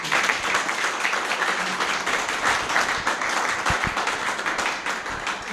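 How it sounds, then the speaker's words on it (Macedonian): Steady audience applause fills a book launch event for a ballet-themed novel, a dense continuous clapping patter from a sizable crowd, fairly loud and sustained throughout with only faint voices beneath. "Ве молам еден аплауз за вас."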